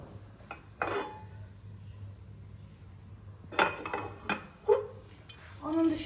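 A pan and cooking utensils clink and clatter while a lentil dish is being made in a home kitchen, with a few sharp metallic taps spaced apart over a faint background hum.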